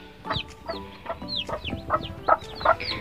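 A bantam hen clucks repeatedly in short, uneven bursts near at hand, with her chicks' high peeping woven through the clucks; no voices.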